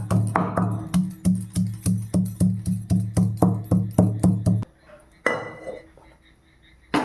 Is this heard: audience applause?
no